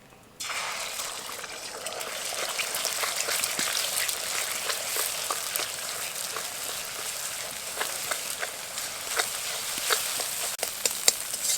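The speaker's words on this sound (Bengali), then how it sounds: "এবার ডিমটা ভেজে নেব।" Egg frying in a little oil in a wok gives a loud, steady hiss that starts abruptly and carries on throughout, with sharp crackles and pops scattered across it and no voices.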